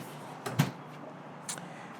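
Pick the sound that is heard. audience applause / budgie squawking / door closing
door closing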